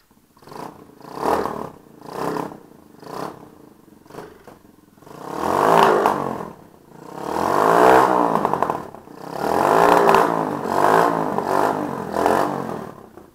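A Suzuki TU250X single-cylinder motorcycle fitted with a Mikuni VM34 round-slide carburetor cranks and fires up, then idles and revs in rising, falling swells, a loud close throb running slightly rich, with no talk.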